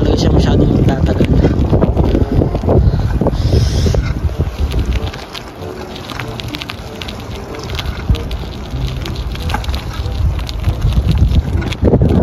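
Strong wind blows outdoors in Canada, a steady roar and rumble of gusts buffeting the microphone throughout, with a voice faintly present at times.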